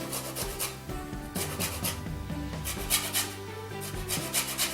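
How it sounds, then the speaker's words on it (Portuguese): Half a lemon rasped against a grater for its zest in a home kitchen making pumpkin filhoses, a run of short scraping strokes in an uneven rhythm, close and fairly quiet. "Vou raspar aqui meio limão"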